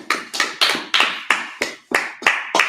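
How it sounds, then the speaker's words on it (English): Steady rhythmic hand clapping during a Sabbath church service: about nine sharp, evenly spaced claps, close and clear, with no talk over them. "Clap it up."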